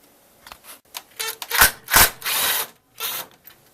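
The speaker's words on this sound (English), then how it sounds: "Next thing we're going to do is remove these screws that are holding on this metal support at the bottom of the grill." Screws being backed out of a metal support at the bottom of a Toyota Tundra's chrome grill surround: a run of short, sharp scraping and whirring bursts, close and loud, with brief gaps between them.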